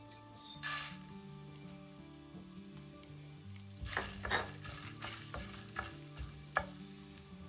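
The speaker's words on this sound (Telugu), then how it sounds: "ఎండుమిరపకాయలు కూడా కొద్దిగా వేగాక ధనియాలు వేసుకోవాలి" Dried red chilies and coriander seeds frying in a pan for a Telugu ivy gourd onion masala, with a steady soft sizzle under low hum and scattered scraping stirs that grow busier partway through.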